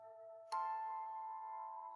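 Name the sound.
ice cream vendor bell ringing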